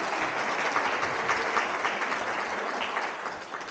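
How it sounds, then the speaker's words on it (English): A room full of people at a Relay For Life survivor dinner applauding steadily, a dense even clatter of clapping that holds strong for several seconds before easing slightly. "So let's give them a big round of applause"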